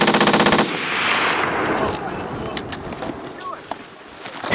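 A Marine Corps machine gun rattles off a rapid burst of about eight shots at a 29 Palms desert range, loud and near, followed by a long rumbling echo and wind noise with faint distant pops.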